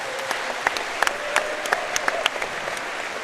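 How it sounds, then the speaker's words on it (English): A crowd at the World Wallball Championship applauds with a dense, steady clatter of clapping and a few sharper individual claps standing out. "Big round of applause for Matt."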